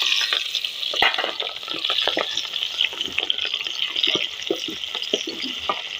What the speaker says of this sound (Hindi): घ्यो साडा गर्म हो गया ऐड कर दें प्याज